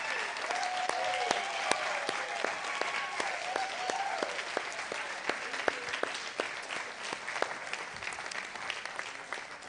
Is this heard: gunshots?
no